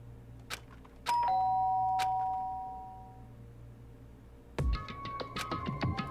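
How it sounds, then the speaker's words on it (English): A doorbell rings in the video game Danganronpa, a clear two-tone chime that decays slowly against a low background drone, followed by a cluster of sharp chiming notes and knocks. "did I hear the doorbell?"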